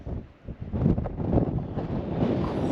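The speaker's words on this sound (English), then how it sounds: "It is a cool 50 degrees and quite windy." Strong gusty wind buffets the microphone out in the New Mexico Badlands on a cool day, a loud rumbling roar that swells and dips continuously with no voices.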